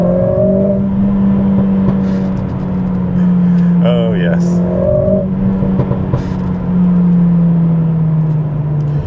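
Mercedes CLA45s AMG engine fitted with a new aftermarket exhaust, a loud steady drone running throughout with a brief rising rev in the middle, while a person speaks over it.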